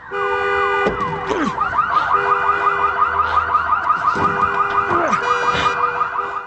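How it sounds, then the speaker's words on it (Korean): Several parked cars' alarms have been set off on purpose in a parking garage. Loud overlapping electronic wails, whoops and rapid warbling patterns cycle continuously, close and dense, with no voices. "일부러 주차된 차량들의 경보음을 울려 도망칠 시간을 벌어보려 하지만"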